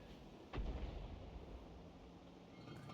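A single artillery round fired from a self-propelled gun in War Thunder, one sharp booming report with a low rumbling tail that fades into steady background battle noise.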